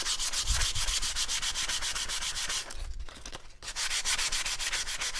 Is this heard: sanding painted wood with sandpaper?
yes